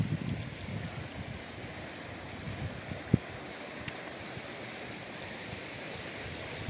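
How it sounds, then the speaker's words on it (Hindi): Cold water rushing steadily along a channel feeding a water-powered flour mill, a constant close broadband wash with one brief knock partway through. "ये देखें जी, ये यहाँ से पानी आ रहा है"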